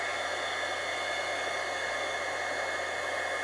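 A hair dryer runs steadily to dry ink on card swatches, a continuous close whooshing hum of motor and blown air, even in level throughout with no talking.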